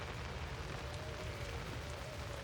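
Steady rain pours down continuously in the video game Outlast, a dense wash of hissing patter with a low rumbling undertone throughout.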